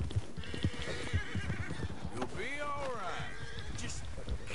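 A horse in a PS4 video game whinnies with a rising then falling neigh midway, amid light clip-clop hoofbeats, while a person talks over it.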